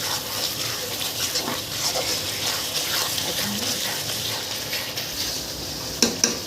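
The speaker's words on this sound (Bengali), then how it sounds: "ছোট একটু একটু করে পানি দিব আর একটু একটু করে মশলাটা কষানো শুরু করব" Chicken masala sizzles steadily in a pan while small splashes of water go in and the spices are stirred, ending in a couple of sharp clinks near the end.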